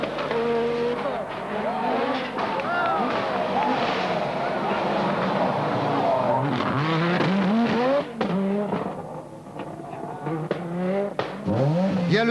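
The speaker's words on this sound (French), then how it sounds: "un spectateur qui traverse presque devant la voiture de Röhrl" A rally car on a stage of the 1986 Rally of Portugal roars close past with rising and falling engine revs and tyre noise, while a voice talks over it.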